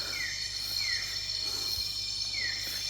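A bird calling in a hill forest, repeated short descending whistled notes at moderate distance, heard over a dense steady drone of insects with no talking.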